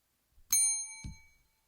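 A single bright bell ding rings out and lingers briefly, followed by a dull thump; otherwise quiet.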